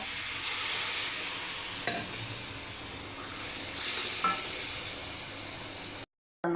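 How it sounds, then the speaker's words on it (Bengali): Boal fish frying in a pan with tomato, onion, turmeric, chili and coriander powder, a continuous close sizzle and hiss with occasional stirring scrapes and brief surges. "মাছ রান্না করতেছি টমেটো দিয়ে এখানে পেঁয়াজ হলুদ মরিচ ধনিয়ার গুঁড়া"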